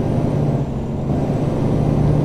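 A heavy Mack Pinnacle truck engine in the video game American Truck Simulator rumbles low and steady, with a brief softer hiss of air brakes partway through.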